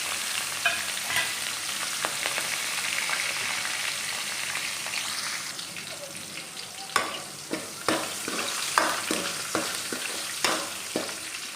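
Garlic sautés in hot oil with green chili and curry leaves, crackling in a continuous sizzle while a spoon scrapes and taps the pan in a run of sharp strokes toward the end.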